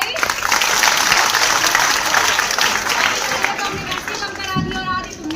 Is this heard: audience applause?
yes